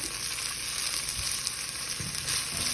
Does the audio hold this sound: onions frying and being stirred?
yes